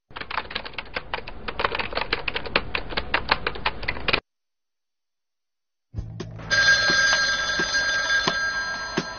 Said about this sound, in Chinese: 深夜的电话铃声